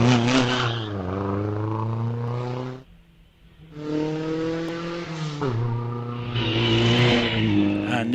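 A 1935 Riley GT Sprite race car, number 34, climbs the Wiscombe Park hillclimb with a loud, close engine roar. It revs hard, eases briefly through a gear change, then pulls strongly again.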